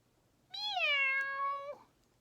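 A single drawn-out cat meow rises then holds steady for about a second, clear and close against a quiet background with no talking.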